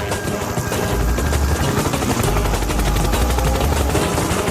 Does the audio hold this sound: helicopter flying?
yes